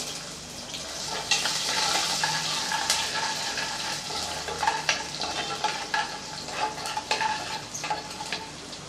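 Chopped garlic sautéing in hot oil in a pan for a tomato curry, a steady crackling sizzle with repeated spoon stirs and scrapes growing busier toward the end, close and moderately loud with no talk.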